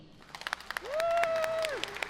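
An audience at a Dania Beach State of the City event claps, scattered at first and then thickening, while a single sustained tone sounds through the middle of the applause.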